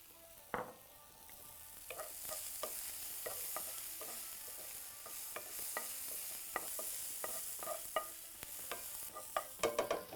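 Onions and garlic sautéing in a pan, a constant close sizzle broken by quick spatula scrapes and clicks that build toward the end, with no voices.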